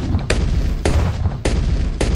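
Cannons in Bloons Tower Defense 6 fire in a game, four sharp booming shots at roughly even half-second gaps over a dense, loud background of game sound.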